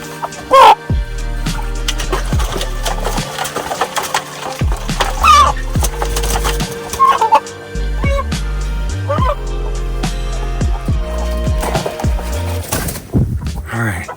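Broody Indio Gigante hens clucking while being dipped, giving short, close, irregular clucks and squawks amid splashing and handling noises, with a person speaking at times.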